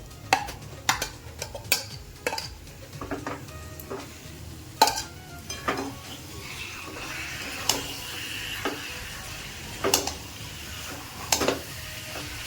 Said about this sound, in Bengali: এই পর্যায়ে অ্যাড করব আগে থেকে ম্যারিনেট করে রাখা চিকেন কিমাটাকে।